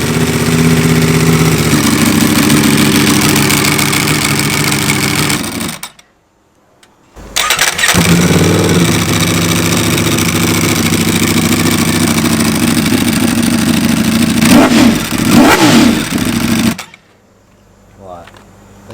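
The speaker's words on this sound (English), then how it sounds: "first off, Liam, let's start the V4 up." Ducati Panigale V4S motorcycle with a V4 engine starts up and revs loudly, running steadily for about six seconds, cutting out briefly, then restarting and revving hard with sharp throttle blips before shutting off near the end.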